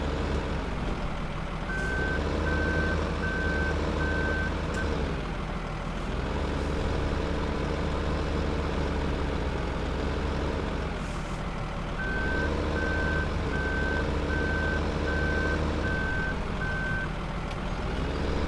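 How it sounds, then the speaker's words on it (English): Steady truck-like reversing beeps repeat in two long runs over a continuous engine drone as a tractor and trailer backs up in Farming Simulator 15, loud and close throughout. "Here's another tractor and trailer with silage in."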